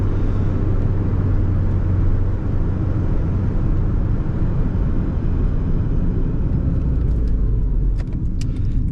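Nissan Micra car driving through town, a steady low engine and road rumble filling the cabin throughout, with a slight rise near the end and faint ticks from inside the car.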